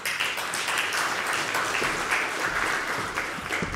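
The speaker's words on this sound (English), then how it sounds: "Please applause Yulia Sirko." An audience at a book launch applauds a Ukrainian speaker being introduced, producing a steady, moderately loud blend of clapping hands for a few seconds with no voices.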